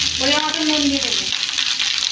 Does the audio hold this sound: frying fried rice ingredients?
yes